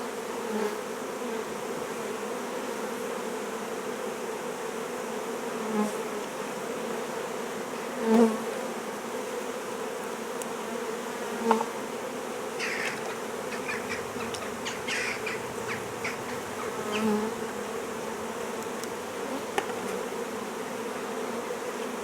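Honeybees buzz around a hive during brood removal in a steady, dense drone as if many are close by, with occasional louder passes over the constant hum.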